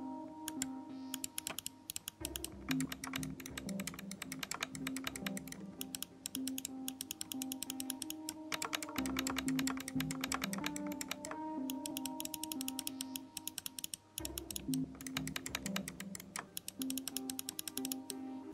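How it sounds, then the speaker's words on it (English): ASUS ROG Gladius 2 gaming mouse with Omron switches gives rapid, dense runs of sharp clicks, close and crisp with brief pauses between bursts and no talking. "Here's a sound test of the two different Omron switches."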